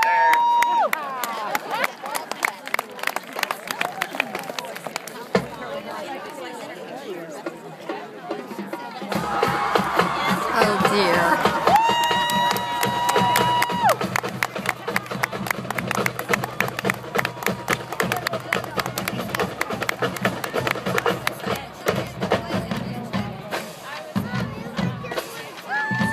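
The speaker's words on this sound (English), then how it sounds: "You can applaud right there." An outdoor crowd applauds and cheers for a high school marching band, first faint and scattered, then swelling into a long, dense wall of clapping with shouts mixed in.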